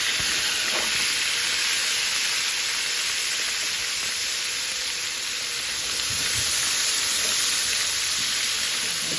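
Small onions and a small green pepper sauté in a little leftover oil in a pan used for chicken, giving a steady, even sizzling hiss that carries on without talk.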